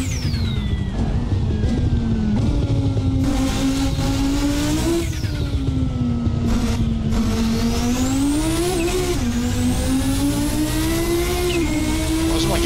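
The KRB Audi S1 silhouette race car in Assetto Corsa drones loudly and steadily, its engine pitch rising and falling smoothly as the car accelerates and eases through corners, with brief dips between shifts.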